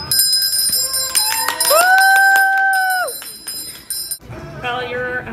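A celebratory bell rings out brightly in a wedding dress shop, its shimmering tone swelling and holding for a couple of seconds before cutting off, followed by excited voices and chatter.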